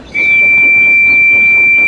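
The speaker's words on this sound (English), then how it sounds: "He decided to practice his whistle again." Whistle of Percy the tank engine in the Thomas animated series, a single loud, sustained high steady tone starting abruptly and holding to the end.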